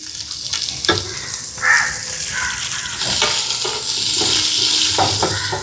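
Sliced onions drop into hot oil with cloves and cardamom for chicken haneeth, a close, steady sizzle and crackle with a few scraping stirs, growing louder and fuller as it goes.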